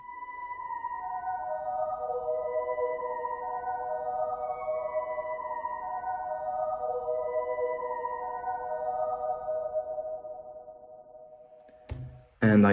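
Sustained synthesizer pad chords for a funk production, smooth layered tones holding steady and fairly loud, fading near the end before a brief burst of another sound.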